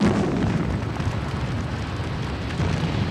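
A crude oil tank boilover explosion: a loud, continuous roaring rumble like a massive fireball, deep and sustained throughout without distinct separate blasts.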